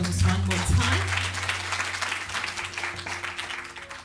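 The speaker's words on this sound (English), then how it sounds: "I think we should give her a massive round of applause just one more time" Audience applause at a business summit, steady dense clapping from a crowd that gradually thins out, with a voice and a low hum underneath.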